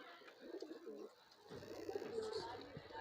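A high-flyer pigeon coos softly in short throaty phrases, near but quiet, with some background noise around it.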